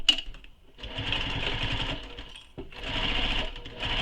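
Sewing machine stitching a side panel of a quiver sling with D-rings, running in two steady, fairly loud bursts separated by a brief stop, with a continuous motor whir and rapid needle rhythm close by.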